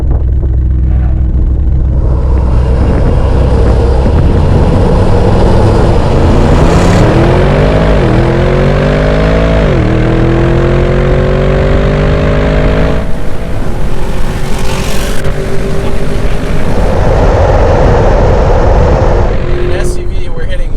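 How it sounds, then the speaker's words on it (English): Two SUVs, an Audi RS Q8 and a Chevy Tahoe, accelerate hard from a standstill in a drag race. Loud engine roar climbs through rising revs with gear shifts, a dense continuous rumble throughout the run. "In an SUV, we're hitting 120 from a dead stop."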